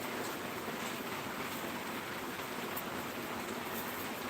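Steady, dense hiss of heavy rain falling outdoors, loud and continuous with no pauses or voices, filling the whole stretch evenly.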